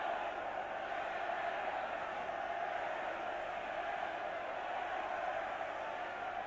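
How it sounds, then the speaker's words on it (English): Welsh supporters at a 1988 Five Nations rugby match between England and Wales sing and cheer as one steady, distant roar of crowd voices that holds without a break throughout. "Suddenly the Welsh crowd have found their voice."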